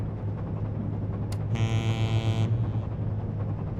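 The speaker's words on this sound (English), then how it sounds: "Let's beep our horn at them." Ship horn in Seafarer: The Ship Sim, sounding one steady, buzzy blast of about a second over a constant low engine hum.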